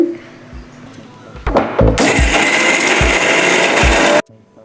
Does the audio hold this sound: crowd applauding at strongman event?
no